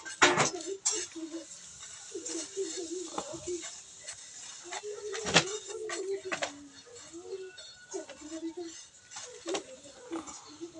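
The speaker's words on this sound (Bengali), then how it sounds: "যে আলুটা কাটছি ডুমো ডুমো করে" Knife chopping a potato into small cubes on a board, with repeated short clinks and taps of the blade against cookware, close by and under a voice talking.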